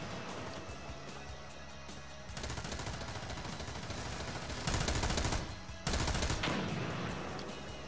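Light machine gun fire rattles in America's Army, a long sustained stream of rapid shots broken by a short pause and then resumed.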